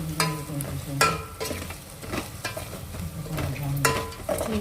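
Stuffed brinjals frying in oil in a pan on a gas stove, a steady sizzle broken by repeated clattering stirs and scrapes of a utensil against the pan.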